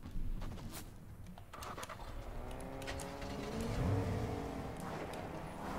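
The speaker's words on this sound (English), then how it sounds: "I hear more cars." Cars driving nearby in Fortnite, a quiet engine hum that swells gently toward the middle with pitch slowly rising, mixed with soft game clatter.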